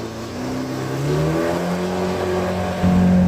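A motorboat motor drones steadily at close range on the Red River, its pitch rising and shifting as it pushes along, with no voices over it.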